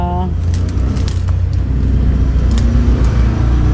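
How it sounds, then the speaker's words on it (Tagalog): A car rumbles past nearby, its low engine sound running beneath steady talking throughout. "kotse hindi ako nagkakamali"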